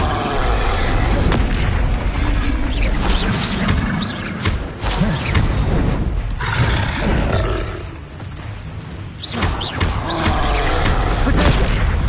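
Loud, continuous spell-combat explosions from the Hogwarts video game, with heavy booming blasts and crashes following one another over the whole stretch and barely any pause between hits.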